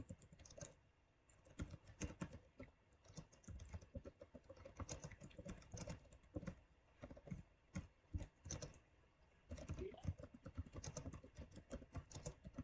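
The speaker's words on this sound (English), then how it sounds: "who's typing?" Quiet clicking of typing on a computer keyboard, irregular bursts of keystrokes with brief pauses, heard faintly and alone.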